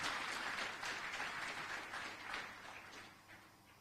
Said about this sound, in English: Why don't we welcome her with a clap?